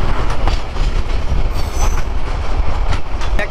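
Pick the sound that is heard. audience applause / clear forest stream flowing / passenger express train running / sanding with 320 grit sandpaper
passenger express train running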